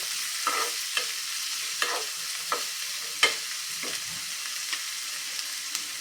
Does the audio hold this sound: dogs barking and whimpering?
no